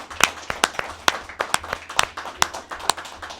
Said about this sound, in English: I'm going to clap to that.